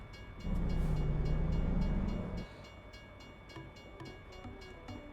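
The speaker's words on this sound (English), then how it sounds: "Oh, so it's like an Amtrak almost." Amtrak-like passenger train passing in American Truck Simulator, heard as a loud low horn blast lasting about two seconds, then a quieter ongoing rumble with faint rhythmic clicks of the cars.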